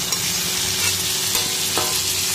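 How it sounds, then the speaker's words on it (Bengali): Masala is fried and stirred in a pan with potato and cauliflower, giving a loud, close, continuous sizzle with a couple of faint utensil knocks. "এখন মশলাটা কষিয়ে নিচ্ছি"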